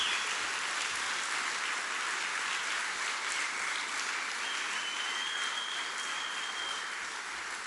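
Church congregation applauding during a Spanish-language sermon, a dense steady wash of many hands clapping that holds evenly throughout, fairly close and loud, with no voices rising above it.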